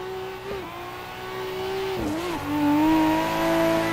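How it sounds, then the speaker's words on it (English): Nissan Skyline R32 drift car engine at a USDrift track, droning and revving with pitch rising and dipping a few times, fairly distant and moderately quiet. "Sights and sound of this R32."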